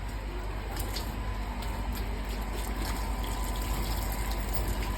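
Water gushes steadily from a pump as buffaloes are bathed on a dairy farm, a continuous close rushing and splashing that runs unbroken throughout with no talk.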